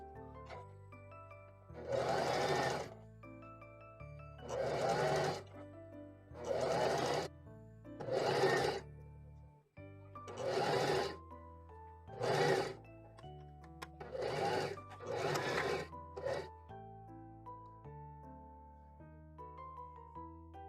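A sewing machine runs a folded fabric strip through at presser-foot width in about eight separate bursts of fast, steady whirring stitching with short quiet pauses between them, close and clear, with soft music underneath.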